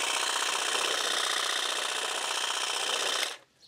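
A GLORIA FineCut 18V cordless lawn edge trimmer running on a grassy slope, giving a steady, close, high-pitched buzzing whine that holds evenly for several seconds and then cuts off abruptly.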